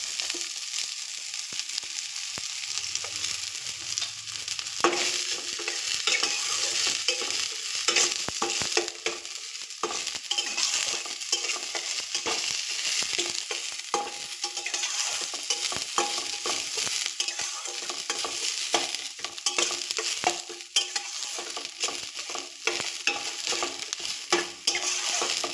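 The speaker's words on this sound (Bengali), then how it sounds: "ফোড়নটা একটু ভাজা হয়ে সুন্দর গন্ধ বেরোলে কেটে রাখা পেঁয়াজ কলিগুলো দিয়ে দেব।" Whole spices for tempering are stirred and fried in a pan, with a steady sizzle and the continual scrape of the stirring spoon for the full stretch, close and clear with no talk.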